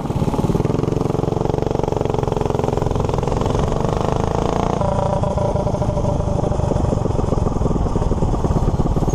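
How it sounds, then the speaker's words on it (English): A motorcycle-like engine runs loud and close, a steady rough idle with a rhythmic clattering pulse that shifts slightly in pitch midway, no talk. "the engine's awesome"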